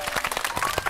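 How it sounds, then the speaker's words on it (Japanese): A small group claps briefly inside IHI Infrastructure Systems' Sakai factory in Osaka. The quick, close, uneven hand claps end within a second. "拍手、はい、"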